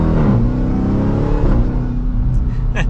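A 2023 Dodge Durango SRT Hellcat with a supercharged engine accelerates from inside the cabin, a loud, dense low engine drone rising in pitch through the gears and continuing without a break.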